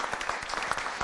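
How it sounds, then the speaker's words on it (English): Audience applause at a panel discussion on ocean plastic, a steady burst of many hands clapping together, fairly close and even in loudness throughout, with no talking over it. "So maybe also clap a hand"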